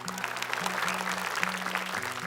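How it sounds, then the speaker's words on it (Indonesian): Audience applause for contestants on an Indonesian Quran memorization television competition, steady clapping under a sustained musical tone throughout. "Tepuk tangan untuk peserta kita."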